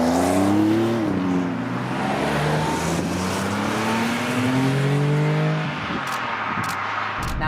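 Porsche 959 engine running and pulling away, a steady engine drone with gear-change pitch rises and dips, close and continuous, ending with a few sharp clicks.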